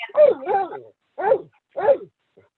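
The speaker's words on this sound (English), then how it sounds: "And a barking dog." A dog barks three times, close and clear, with the first bark drawn out into a double yelp and short silent gaps between them.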